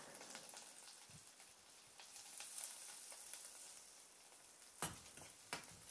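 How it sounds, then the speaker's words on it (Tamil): Soft, steady sizzling of finely chopped ginger and garlic frying in melted butter in a pan, faint and continuous, with a few light clicks and scrapes. "அந்த பட்டர் உருகுனதுக்கப்புறம் பொடியாக சாப் பண்ணி வச்சுருக்கிற இஞ்சி பூண்டை வந்து சேர்த்துக்கிட்டேன்"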